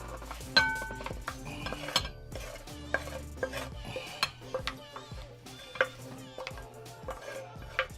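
A spoon scrapes and clinks against a pan as onions are stirred into meat, with irregular knocks and a soft sizzle underneath.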